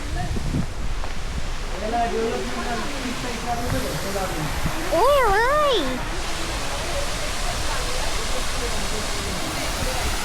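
Broad, steady roar of falling water from a waterfall at Kondeshwar fills the background while a voice speaks over it partway through.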